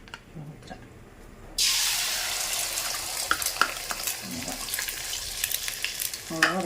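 An egg omelette with small onions hits a hot pan after a quiet moment and starts a sudden loud sizzle. The frying keeps hissing while a utensil scrapes and taps intermittently.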